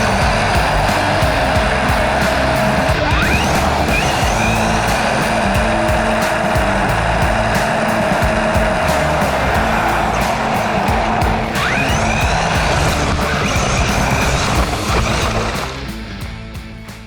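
Stock Haiboxing HBX 18859 RC car driving at speed, a steady high-pitched electric motor whine with tire noise and occasional squeals, loud and continuous for most of the run before fading slightly at the end.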